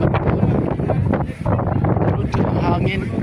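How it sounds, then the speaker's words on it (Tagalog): Strong wind buffets the microphone atop the Cliffs of Moher in Ireland, heavy gusty rumbling in loud, uneven surges that swell and dip throughout. "Grabe ang hangin."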